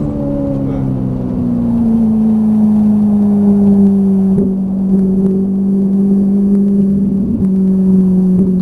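A Ferrari 458 Italia's engine pulls steadily under throttle, a loud, continuous drone whose pitch sinks slightly as it holds, with a brief dip midway before the power comes back on.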